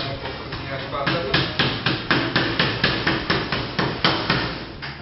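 Pizza dough for puff-pastry pizzette is slapped down hard on a work surface again and again, a loud, steady rhythm of about a dozen heavy thuds in a row.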